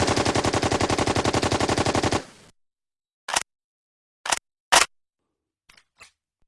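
An MP5 submachine gun sound effect: a loud, rapid, evenly spaced burst of automatic fire for about two seconds, then silence broken by a few sharp, separate mechanical reload clicks.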